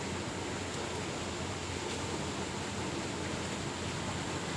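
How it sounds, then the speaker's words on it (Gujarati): Water runs steadily through a farm irrigation channel where pigeons bathe, a continuous broadband rush holding at an even level throughout, with no voices. "જો પાણી ચાલુ છે"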